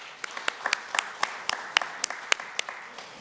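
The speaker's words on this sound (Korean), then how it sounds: "박수 부탁드리겠습니다" At a book launch event, an indoor audience gives a short round of applause: a scattering of individual claps, fairly sparse and close, lasting about three seconds.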